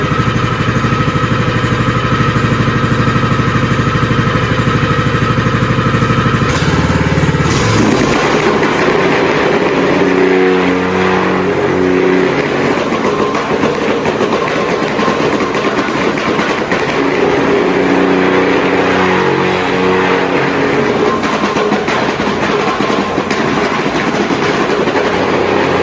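A Honda GX160 engine on an HZR70 plate compactor starts up with a short burst, then runs steadily with a loud, constant mechanical drone and rattle close by. No one speaks.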